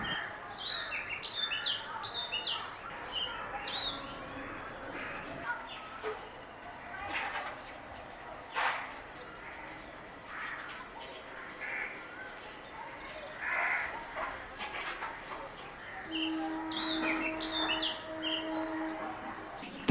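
A magpie robin gives a sweet call outdoors: faint, scattered whistled phrases in bursts against a quiet background, with other bird sounds and a little talk mixed in.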